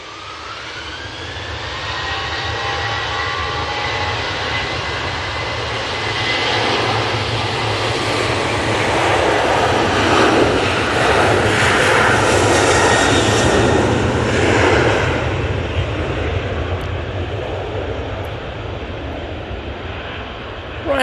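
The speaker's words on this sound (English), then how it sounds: "Ryanair 737-800 now on the roll. That's off to Porto." A Ryanair Boeing 737-800 jet rolls for takeoff at Manchester Airport, a loud, sustained engine roar that swells and holds steady for the full span, with no talk over it.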